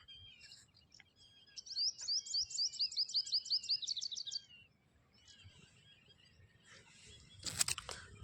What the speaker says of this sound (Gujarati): અત્યારે પક્ષીઓનો કલરવ સાંભળો, એક જ મિનિટ શાંત રાખી.